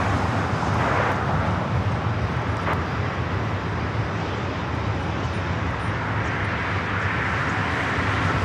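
A Boeing 787 Dreamliner jet at Los Angeles International Airport roars steadily for several seconds, a broad, loud rushing drone muddied by wind buffeting on the microphone, with no one talking.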